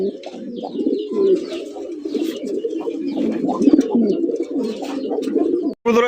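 Fancy racer golla giribaz pigeons coo in soft, rolling, continuous murmurs close by, with faint chirps above and a brief sharp rustle near the end.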